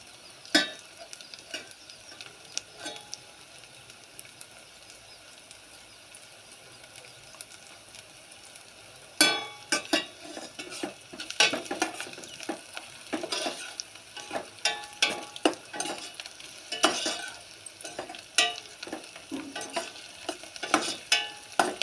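Cluster bean and tomato curry vegetables frying and simmering in a pan, a soft steady sizzle that turns busier halfway through as a spoon stirs and scrapes in repeated strokes.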